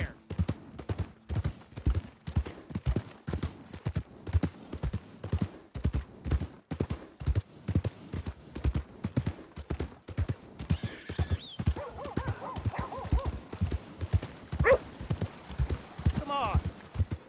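Horse hooves clip-clopping at a steady trot in Red Dead Redemption 2, a rapid, even rhythm that runs throughout, with a whinny and a voice over it.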